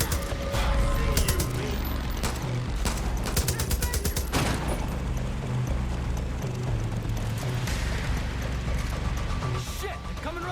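Sustained turret gunfire in the Far Cry New Dawn video game, dense bursts of rapid shots over rumbling engine and mechanical clatter, loud and close throughout with a chaotic crashing backdrop.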